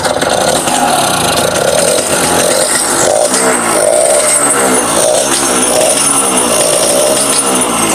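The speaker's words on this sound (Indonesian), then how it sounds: "Mesinnya halus banget ya. Mesinnya halus banget, kondisinya lumayan lah." A 1975 Yamaha L2 Super two-stroke motorcycle idles loudly and steadily up close, its even buzzing drone running unbroken throughout with no pauses.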